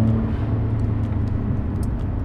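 A Nissan 300ZX twin turbo engine holds a steady, loud low drone as it builds toward 3000 rpm. The note stays even and continuous, with no voices.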